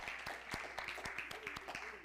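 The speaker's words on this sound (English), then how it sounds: "clap your hands and bring her up." A congregation claps hands at a church service, a steady run of sharp, close claps spread across the whole stretch, with faint voices mixed underneath.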